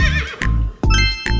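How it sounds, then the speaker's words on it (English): A horse whinnies three times in quick succession, each loud, close call rising and falling with a strong harmonic tone, set within a children's song about the Chinese zodiac animals. "horse,"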